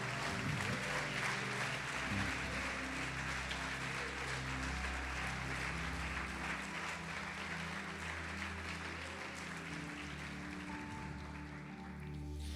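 A church congregation applauds steadily and at a moderate level for the whole stretch, over a sustained low musical drone.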